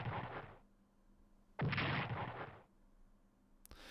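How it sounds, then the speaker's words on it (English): A bombing strike on a Panzer in the strategy game Strategic Command WWII: two loud blasts of rushing, rumbling explosion noise, each about a second long, separated by quiet, with a short sharp click at the end. "Let's bomb that panzer."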